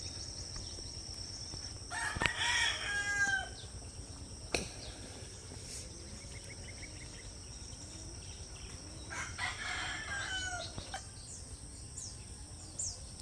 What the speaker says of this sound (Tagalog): Ang ingay ng mga chicken kasi umaga na